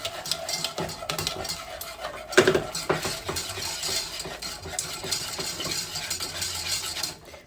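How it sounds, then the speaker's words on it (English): Egg being whisked into a rum bread pudding mixture in a bowl, giving a steady scraping, clinking stir throughout with one louder knock near the middle, close and fairly quiet with no talking. "I'm going to add my egg and continue to whisk."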